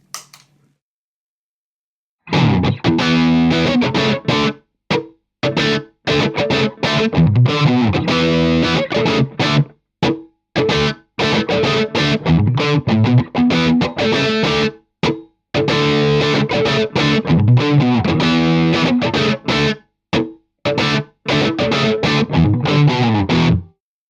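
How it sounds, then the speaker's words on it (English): An electric guitar through a Sinvertek Distortion No.5 pedal, controls set flat, plays heavily distorted chugging chords and riffs in bursts, loud and close, with short gaps of silence between phrases. "Let's kick on the distortion with everything set pretty much flat."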